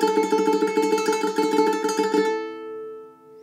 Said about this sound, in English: that riff uses a technique called tremolo picking